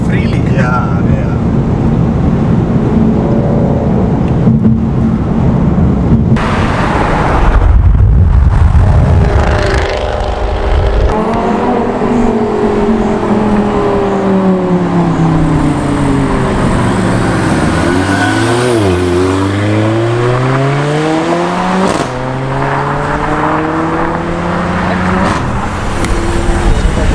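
Fast cars, including a 720 hp Ford Mustang GT among supercars in India, roaring past on an open road, with engines rising and falling in pitch as they fly by, loud and close, while people talk over the noise.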